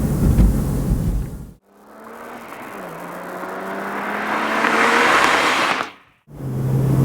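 BMW Z4 3.0si Coupe engine revving up through the gears, a rising whine and roar that climbs in pitch, drops at a shift, then climbs again, loud and close, with brief gaps at the shifts.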